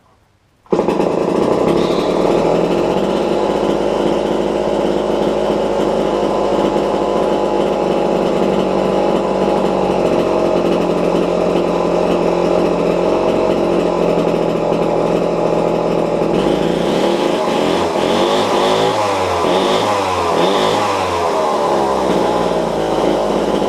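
Homelite C51 chainsaw engine starts with a sudden burst and runs steadily and loud for over twenty seconds, its pitch shifting and revving unevenly near the end.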